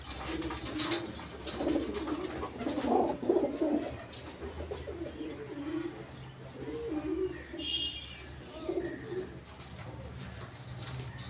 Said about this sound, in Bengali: দেখো নানান রকম এখানে কী কী পায়রা আছে।